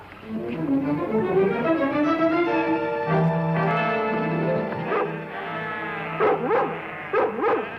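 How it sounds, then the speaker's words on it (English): Lassie, a collie, whimpers and yips in high, drawn-out tones, then gives a few sharp close barks toward the end, loud and without talk. "Get that crazy dog out of here."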